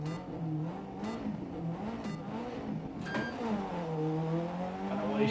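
A rear-wheel-drive rally car in EA Sports WRC on snow and ice revs its engine and pulls away, the pitch climbing through long gears with a brief dip at a shift, loud and continuous with no voices.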